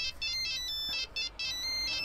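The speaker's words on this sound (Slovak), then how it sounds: "Nezvoní ma telefon náhodou?" A mobile phone ringtone at a bus stop, a bright electronic melody repeating in short pulses, clear and fairly close for about two seconds with no talk.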